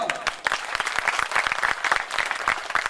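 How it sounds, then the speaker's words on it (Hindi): An audience at a poetry recitation event bursts into clapping, a loud, continuous burst of many hands that holds for several seconds. "ये खामोशी तोड़िए, मैं आपकी तालियां चाहता हूं"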